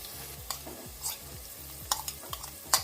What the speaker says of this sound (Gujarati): આપણે તેલ ગરમ થઈ ગયું છે તો આપણે મરચાં એમ નાખી દઈશું એમાં પહેલાં